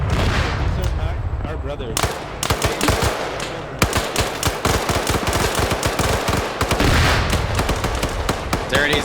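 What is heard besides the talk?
BMP armored vehicle firing, from video game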